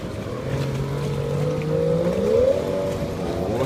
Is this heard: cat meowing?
no